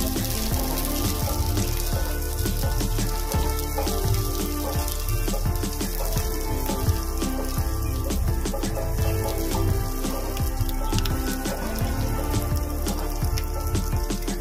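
Capsicum and cauliflower fry in a pan as they are stirred, a dense, even hiss like heavy rain with faint scrapes and taps mixed in, loud and close throughout with no talking.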